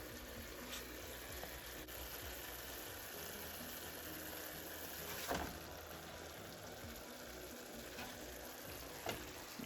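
Ground beef and pork sausage fry together in a pan, giving a steady, soft sizzle with a few faint scrapes and clinks of a utensil.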